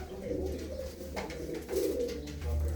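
Pigeons in a loft coo softly in low, rounded phrases, with a couple of brief swells of cooing over a steady background hum and faint rustle; no clear talk.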